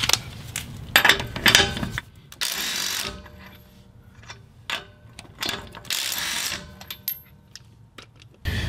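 An original Ryobi 18V cordless tool works lug nuts loose with bursts of ratcheting mechanical whirring, close and fairly loud, stopping and starting over several seconds.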